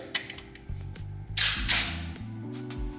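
Slide of a Sig Sauer P365 .380 pistol being racked: a few sharp, close metallic clicks and a quick rough sliding rasp stand out over a steady background hum.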